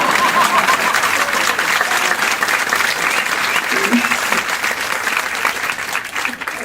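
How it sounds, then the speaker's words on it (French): Sustained audience applause from a studio crowd at a French satirical comedy show, dense and steady throughout, with a voice briefly audible underneath. "on applaudit ou pas, comme vous voulez"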